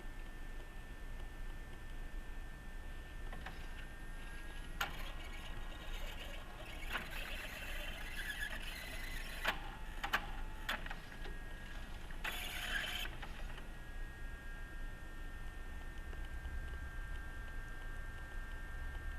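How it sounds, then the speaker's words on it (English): A RENA Mach 5 inkjet printer's maintenance station being pulled into the assembly during setup, heard as a steady mechanical whir with intermittent ticking and ratcheting clicks, close and moderately quiet. "the maintenance station will start to get pulled into the assembly"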